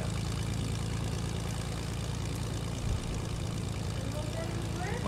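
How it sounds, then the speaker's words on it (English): Propeller airplane engine in Fortnite, a steady loud droning hum that holds unbroken throughout, with no talking over it. "We're gonna finish flying the plane for just a little bit"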